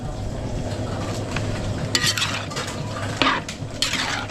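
Pork belly marinade with garlic and onion for adobo gets mixed in a pot, giving soft scraping and clinking utensil sounds, a few sharper knocks near the end, over a steady low background hum.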